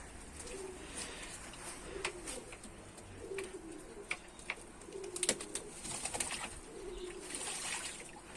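Pigeons bathe in a filled water basin in sunny weather, cooing softly nearby amid scattered wing flaps and splashy fluttering bursts.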